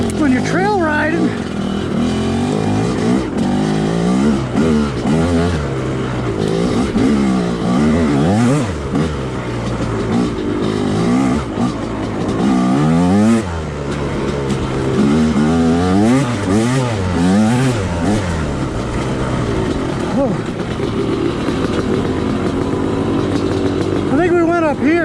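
A dirt bike rides and jumps along a trail, its engine revving and falling in repeated loud surges and easing off between jumps. A person talks over the machine for much of the ride.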